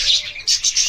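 Pet birds chirp nearby in a few quick, bright, high tweets that come in short bursts and stand clear with no talk behind them.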